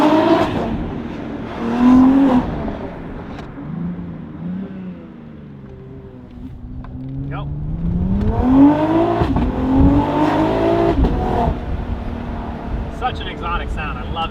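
BMW X3M with its S58 engine and a resonated equal-length Valvetronic exhaust revs and pulls through gears with the windows down, the sound bouncing off nearby buildings. The note swells, dips between shifts, then climbs again, loud and close for about fourteen seconds.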